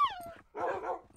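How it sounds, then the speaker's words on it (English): A puppy gives a short, high whimpering yip that drops in pitch, then a rougher bark-like burst after a brief gap, close and fairly quiet. "Oh, a puppy."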